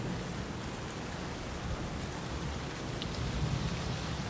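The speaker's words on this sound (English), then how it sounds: "The rain kept falling over the African jungle night." Rain falls on an African jungle at night, a steady, soft broadband hiss of dense drops that stays even throughout, with a faint low rumble underneath and no talking.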